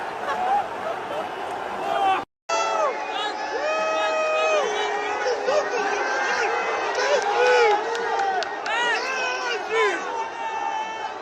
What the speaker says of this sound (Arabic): اللي انا سمعته انهم كانوا بيهتفوا لميسي عشان يضايقوه